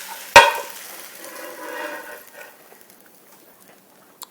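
Gnocchi tossed in a pan of rosemary brown butter: one sharp clack of the pan, then a soft sizzle that fades over about two seconds, leaving near-silence with a faint tick at the very end.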